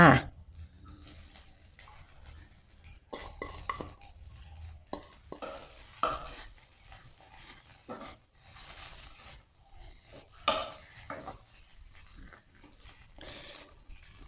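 Glass noodles are tipped into a pan with cha-om (acacia) omelette and stirred. Irregular scraping and clattering sounds run alongside someone talking.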